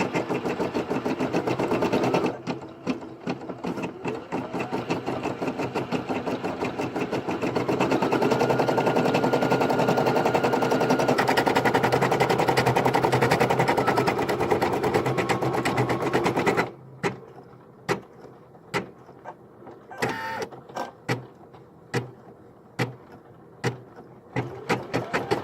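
An embroidery machine stitches a design converted from a photo, a loud, rapid continuous needle chatter for about sixteen seconds, then slowing into spaced mechanical clicks and thumps.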